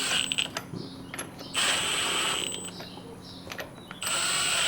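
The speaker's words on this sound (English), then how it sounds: "put our impact to a low torque setting, and we're just gonna kind of hold the wheel in" A cordless impact wrench on a low torque setting snugs lug nuts on a 2013-2019 Toyota Corolla during a tire rotation, a few short whirring, ratcheting bursts separated by pauses, close and loud with no talk.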